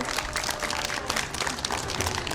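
Steady applause from an audience, dense clapping filling the room without pause.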